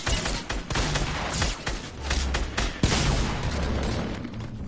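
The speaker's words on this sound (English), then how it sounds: "I have an SMG now" Rapid SMG bursts fire in a video game, a dense run of loud, close shots with sharp cracks throughout and a brief spoken word over them.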